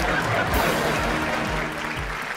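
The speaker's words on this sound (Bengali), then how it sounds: "3 জন অন্যদিকে একটা জোরে হাততালি" Applause from a comedy show studio audience, dense and steady for the whole stretch, mixed with a low musical backing.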